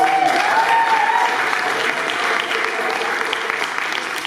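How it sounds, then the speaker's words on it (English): A crowd at the Long March for Unity & Justice in Asheville, North Carolina, claps steadily, a dense, loud wash of applause that holds for several seconds with some cheering mixed in. "give yourself a hand of applause"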